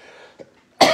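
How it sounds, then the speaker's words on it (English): A single sharp, loud cough bursts out near the end, close by, after a faint throat noise. "I'm sorry, I'm coughing."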